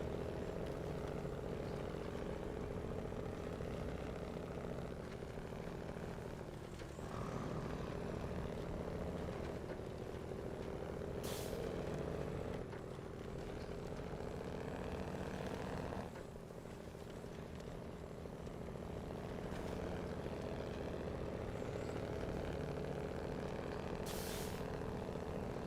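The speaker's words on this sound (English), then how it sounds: "The engine just sounds mean." A truck engine with its exhaust runs steadily at close range, a continuous low droning rumble with slight shifts in tone and a few brief hissing bursts on top.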